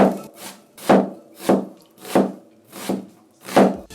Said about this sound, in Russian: И уже полностью очищенный лук нарезаем мелким кубиком.